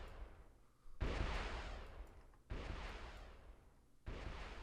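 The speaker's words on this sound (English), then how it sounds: "Oh, we're hitting them with artillery. Wow, that's really long-range artillery." Long-range artillery fire in the strategy game Supreme Ruler Ultimate: three loud, broadband booming blasts about 1.5 seconds apart, each sustaining a rumbling roar before the next shot.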